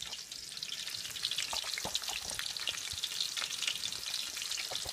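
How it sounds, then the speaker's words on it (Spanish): A ham-wrapped hot dog fries in a pan with a steady, close crackling sizzle and scattered sharper pops, with no talking. "Se está friendo la de jamón"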